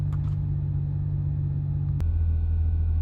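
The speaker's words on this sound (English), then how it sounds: "here's a rev. Hopefully you hear the flutter." A 1997 Toyota Mark 2 GX100 engine with a turbo hums in a steady, close rumble, then a sharp click and its note drops lower and runs on.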